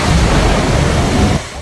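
A flash flood surges through a previously dry waterfall, a loud, dense, unbroken roar of rushing water filling the whole clip, close and overwhelming with no voices.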